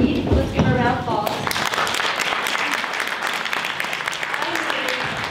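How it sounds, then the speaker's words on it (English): An audience at a Girls on the Run gathering breaks into applause after a brief moment of talk, with steady clapping that carries on to the end. "let's give her a round of applause"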